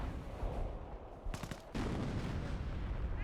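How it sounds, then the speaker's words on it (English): Artillery barrage from a Priest self-propelled gun in the Company of Heroes strategy game: dense rumbling explosions and gunfire, loud and continuous, with a short lull before the shelling resumes. "I hear a priest barrage training somewhere"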